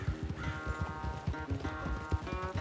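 Horse galloping in Red Dead Redemption 2 during a horse race, with rapid, steady hoofbeats thudding close by in a continuous rhythm under a low game music bed.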